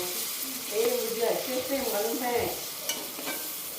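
Mint stirred into a pan of tomato rasam with a steady sizzle and the scrape of a spoon, close and moderately loud, while faint voices murmur beneath.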